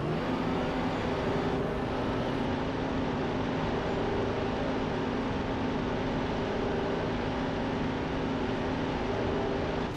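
A racing car engine from an F1 video game at Monaco holds a steady, loud, unbroken drone throughout, with no voices over it.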